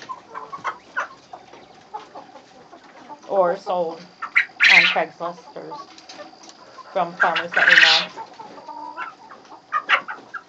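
Chickens cluck and squawk in short bursts on a small farm, birds that will soon be sold at auction, heard close while a person talks steadily over them.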